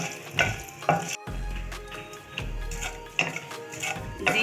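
Cumin, whole chilies and kalonji fry in mustard oil for a sweet-and-sour raw mango launji chutney, with crackling sizzle and several sharp spoon scrapes against the pan, close and fairly loud.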